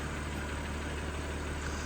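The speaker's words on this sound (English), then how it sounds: "Keep the engine running." A BMW M3 3.0 biturbo Competition saloon (510 PS) idles, giving a steady low rumble without any revving over its short span.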